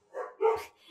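Dogs give a couple of short, muffled barks in quick succession, somewhat distant and fairly quiet.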